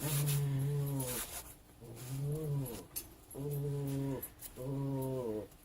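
Dogs in a room give four drawn-out, whining howls in a steady repeating pattern. The cries are fairly faint, with quiet gaps between them.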